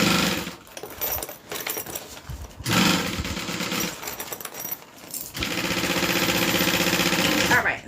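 A sewing machine stitches two pieces of material together in bursts, its rapid mechanical whir starting and stopping, with a longer steady run at the end and occasional handling noises between.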